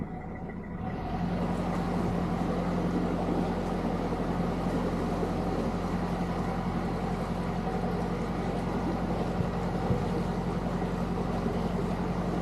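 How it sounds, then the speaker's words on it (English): A quiet boat engine on the River Weaver hums steadily after a brief start, a low continuous drone with a faint tonal whine running evenly throughout. "It's a quiet engine, I know, but it's not that quiet."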